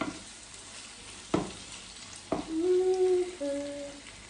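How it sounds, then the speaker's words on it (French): Spinach with smoked fish and chicken is stirred in a pot, giving two sharp scraping knocks followed by a soft sizzling rustle and a brief squeaky tone near the end, with no talking. "Là, je vais remuer"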